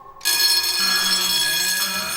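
A security alarm sounds loudly and continuously after a brief quiet start, a steady electronic tone rich in high harmonics that holds throughout, with a lower hum joining partway.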